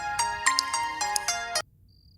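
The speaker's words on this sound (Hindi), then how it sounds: "विनय का ही फोन आ रहा है।" A mobile phone rings in a Hindi-dubbed South Indian romance film, sounding a bright, rhythmic melodic tone in repeated bursts before cutting off abruptly, followed by near silence.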